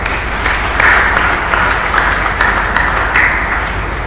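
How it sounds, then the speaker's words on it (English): Applause from a graduation ceremony audience at Sir Arthur Lewis Community College, a steady even wash of many hands clapping that fills the whole stretch at a fairly loud level, with a few sharper claps standing out. "They deserve a round of applause as well."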